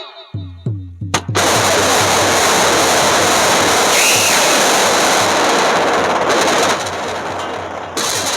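Several sharp, loud bangs go off in quick succession during a staged nautanki folk-theatre drama, then give way to a dense, sustained roar of noise that fills the rest of the stretch.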